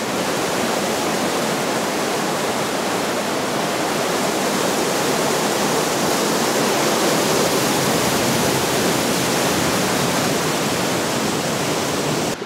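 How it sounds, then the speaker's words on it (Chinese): A waterfall close by gives off a steady, dense rushing roar that stays loud and unchanging throughout, with no voices over it. "我们已经靠近这个瀑布了，我们来看一下。"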